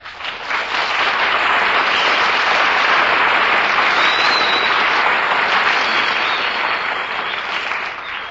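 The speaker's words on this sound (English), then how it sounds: "That's an announcement that really deserves applause" A radio studio audience at a 1948 variety show gives a long, steady round of applause, a dense even roar of clapping that swells quickly and holds with no voices over it.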